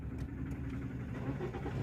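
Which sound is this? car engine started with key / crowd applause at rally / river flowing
car engine started with key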